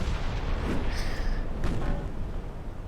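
Warship guns boom in the naval game Ultimate Admiral: Dreadnoughts, two heavy distant reports about a second apart under a continuous low rumble of battle ambience.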